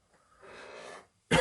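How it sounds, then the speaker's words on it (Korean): A man gives a single sharp cough, close and loud, right after a breathy throat rasp, with nothing else heard around it. "기침이 나오네요."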